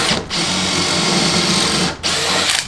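A Skil power drill runs steadily at high speed with a loud, continuous whine, briefly dropping out twice as the trigger is eased and squeezed again.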